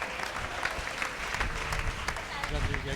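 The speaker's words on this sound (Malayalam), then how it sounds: "ഒന്ന് ചുണയായിട്ട് കൈയടിച്ചേ." An audience at a church testimony service claps together in a lively, continuous burst, fairly close and loud, while a voice speaks over the applause.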